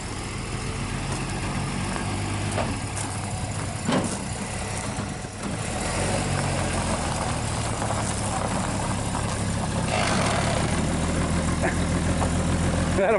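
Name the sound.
1961 Dodge Lancer engine running during short drive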